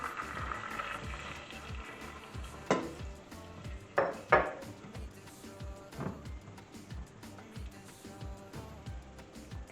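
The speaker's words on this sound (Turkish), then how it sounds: "Evet sosumu da ekliyorum." Thick homemade pizza sauce added to a pan, with a low bubbling simmer under several clanks of a utensil against the metal pan, close and fairly quiet.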